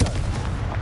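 A single sharp, heavy blast from the Confringo fire spell in the video game Hogwarts Legacy booms up close and fades quickly, like an artillery shot.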